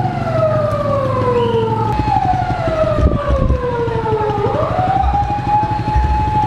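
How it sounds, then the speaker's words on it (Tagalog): A fire truck siren wails in the streets of Manila, loud and close, its tone gliding down and rising again in long sweeps over a rumbling engine and traffic. "Sirena ng bumbero."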